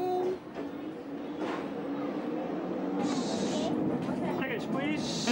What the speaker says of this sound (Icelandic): Og þá fer lestin af stað.